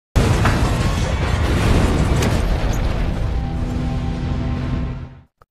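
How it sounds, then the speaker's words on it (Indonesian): A bomb blows up in a kitchen in a zombie film, a sudden loud blast followed by a long roaring rumble with debris crashing, heard close and alone before fading out abruptly. "Cindy dan Tom berhasil mendapatkan tempat berlindung sesaat sebelum bom di dapur meledak"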